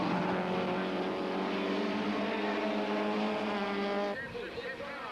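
BMW and Opel supertouring race cars at Killarney in 1993, their engines holding a loud, steady harmonic drone that drops away sharply near the end, heard beneath a commentator's voice.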